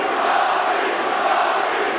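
Arena crowd at a UFC fight between Colby Covington and Robbie Lawler cheering and roaring for Lawler, a dense continuous wall of voices with no break.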